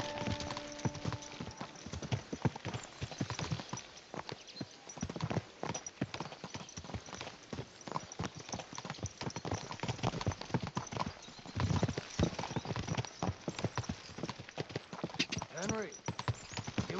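Dense, continuous clip-clop of a ridden horse's hooves in Kingdom Come: Deliverance II, a steady rhythmic gait throughout, fairly quiet and even, with no talk over it.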